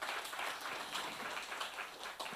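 An audience applauding at a ghazal collection book launch honouring an IAS officer, a dense, steady wash of many hands clapping through the whole moment, moderately loud and unbroken.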